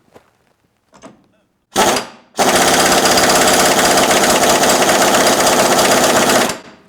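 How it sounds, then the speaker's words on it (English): A Mac Tools impact wrench works on a stuck pitman arm: a few light knocks, a short burst, then a loud sustained rapid hammering rattle lasting several seconds before stopping. "So I picked up my Mac Tools Impact, and let's see if we can get this thing off."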